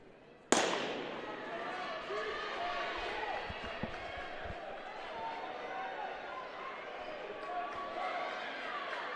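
A starting gun fires once to open the final race of an indoor track conference championship, a sharp loud crack near the start that rings out, followed by the steady echoing hum of the arena and a commentator's voice.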